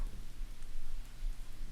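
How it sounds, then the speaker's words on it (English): Steady rain hissing outside, a constant soft wash with a low rumble underneath, no voices. "that's the sound of the rain outside"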